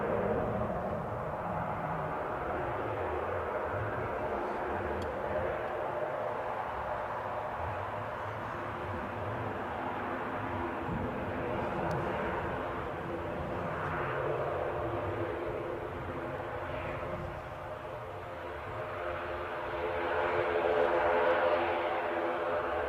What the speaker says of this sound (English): let you have some of that turboprop din